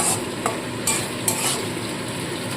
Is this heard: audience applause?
no